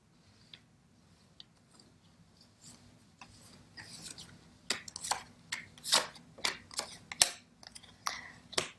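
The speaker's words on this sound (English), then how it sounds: "Let me fix these cards." Tarot cards being handled and arranged on a table during a reading: faint rustling at first, then a run of crisp, close slaps and shuffling sounds that grow louder, with no talking.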